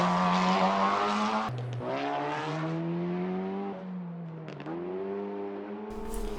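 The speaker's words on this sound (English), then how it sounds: "This car sounds so amazing with its pops and bangs" A front-wheel-drive race car engine revs hard and close, its pitch climbing and dropping through several gear shifts, with a few sharp pops and bangs from the exhaust.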